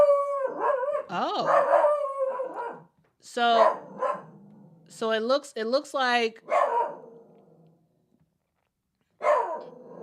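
A dog barks and then draws out into long, wavering howls in repeated bursts, loud and close, with pauses between them and a person speaking briefly.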